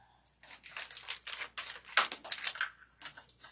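Scissors snip and crunch through stiff, splitting decorative material for a holiday cardinal sleigh centerpiece, a rapid close series of cuts and crinkles.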